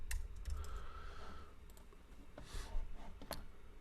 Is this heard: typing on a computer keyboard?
yes